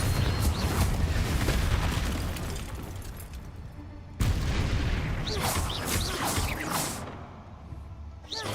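Repeated Confringo blasting-spell explosions in Hogwarts Legacy, a dense run of booming, crackling bursts that break off briefly and resume, loud and close with no talk over them.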